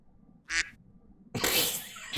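Artificial ducks in a small indoor garden quack in two bursts, a short isolated quack followed by a longer, louder run of quacking, with no voices.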